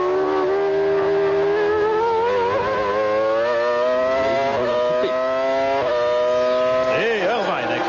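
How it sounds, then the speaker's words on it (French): The Mercedes V10 Formula 1 engine screams at high revs during the 1998 Italian Grand Prix, a sustained piercing whine with brief drops for gear changes and a downshift burst near the end. "Écoutons un peu le V10 Mercedes."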